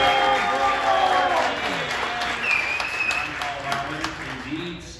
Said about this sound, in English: can I get a witness and a raucous round of applause for PA Charch?